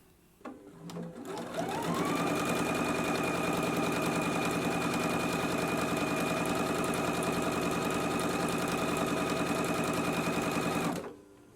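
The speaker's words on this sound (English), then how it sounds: "we can go to the sewing machine and stitch close to this inner fold" A domestic sewing machine stitches bias tape along an inner fold on a summer dress, spinning up quickly into one long steady whirring, rattling run that lasts about nine seconds before stopping abruptly, close and loud with no speech.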